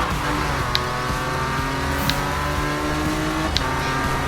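A race car in the Need for Speed video game accelerates hard, a steady engine roar with rising gear tones and brief high clicks, loud and continuous over game music with no talking.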